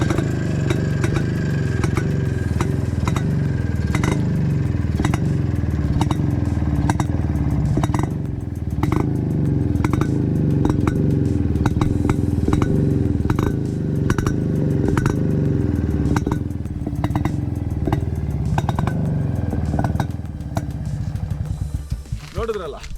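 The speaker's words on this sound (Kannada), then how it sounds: "ನೋಡಿದ್ರಲ್ಲ ಗಾಡಿ ಸೌಂಡ್ ಹೇಗಿತ್ತು ಅಂತ. 2 ಡ್ಯುಯಲ್ ಸೈಲೆನ್ಸರ್ಸು." A restored 1981 Yezdi D-250 Classic two-stroke motorcycle with dual silencers runs close by, its engine throbbing and popping steadily with mechanical clatter, rising and falling slightly before easing down at the end.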